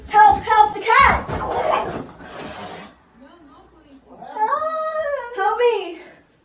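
A cat yowls in loud, drawn-out wails, mixed with someone shouting in distress, then a quieter stretch before more tonal yowling close by.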